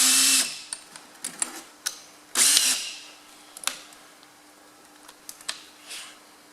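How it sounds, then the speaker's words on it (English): A power drill bores into the rear axle bearing of a Massey Ferguson 35X tractor, a loud whirring burst at the start and another midway, with a steady hum and scattered clicks and knocks of tool handling between them. "try and get a sharp drill."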